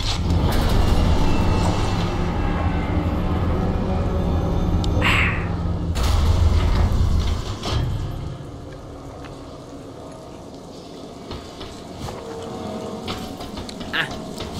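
In the video game Darksiders, a train rumbles and clatters along loudly for several seconds with a few sharp metallic hits, then the noise drops to a quieter hum.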